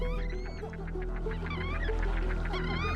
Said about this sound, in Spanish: lo apreciaban de manera muy especial las tahuas gigantes, sin duda los habitantes más característicos de la laguna